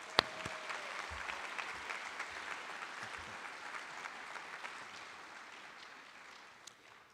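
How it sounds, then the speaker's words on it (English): Audience applause for award recipients at a high school academic achievement awards ceremony, a steady wash of many hands clapping that tapers off gradually near the end. "we'll give them a round of applause"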